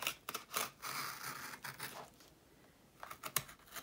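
Scissors cutting into a journal page in a 5-ring binder, quiet close snips and paper scratching in irregular bursts with a pause in the middle.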